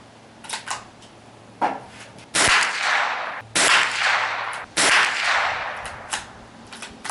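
A Mossberg 802 Plinkster rifle fires at a range, three loud sharp shots spaced about a second apart, with smaller clicks and handling noises in between.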